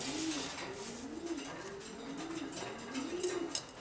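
Domestic racing pigeons coo in a steady, repeating series of soft rising-and-falling calls, close by and continuous, with no talking.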